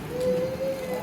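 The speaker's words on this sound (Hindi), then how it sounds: "ये देखिए बरसात हो रही है ना बेहतरीन करके।" Heavy rain pours down in a steady, dense hiss that fills the short stretch, with a thin tonal hum running through it and no talking.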